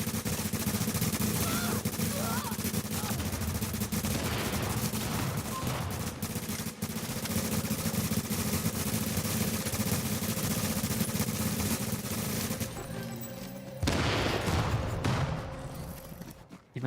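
Sustained enemy gunfire in The Division, dense bursts of shooting rattling continuously for many seconds, loud and close, with a sharper flurry near the end.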